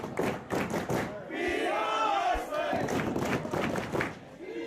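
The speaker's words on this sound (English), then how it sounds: "You see the crowd going wild." Wrestling crowd roaring after a lariat to the face, a loud sustained cheer with rhythmic chanting bursts and a couple of low thuds, energetic arena noise throughout.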